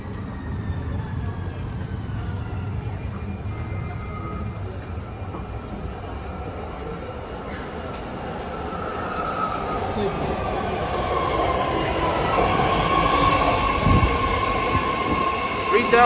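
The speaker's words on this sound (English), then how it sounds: "here comes the new 8-car 3-door Richmond train" An 8-car, 3-door BART Fleet of the Future Richmond train rolls into Civic Center Station and grows steadily louder, wheels rumbling and squealing faintly as it pulls into the platform.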